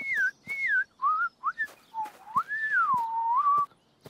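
Whistling tones made by blowing into juice boxes in a cartoon, several separate sliding notes that rise and fall, ending in a longer wavering whistle, with soft clicks between the notes.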